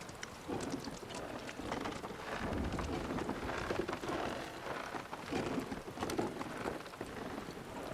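Steady, dense rainfall in Final Fantasy VII Rebirth, a continuous close hiss and patter with no breaks, holding even in loudness throughout.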